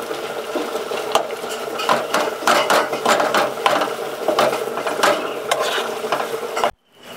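Broken-up shrimp stir-fry in oil with cumin powder in a village kitchen: a steady, close sizzle with repeated scraping and clattering strokes of the spatula that stops abruptly near the end.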